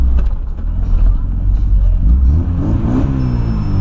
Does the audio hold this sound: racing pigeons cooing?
no